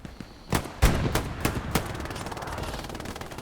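Gunfire in the video game Hell Let Loose: several sharp, loud shots in a loose burst, then a rapid run of quieter automatic fire fading into background rumble.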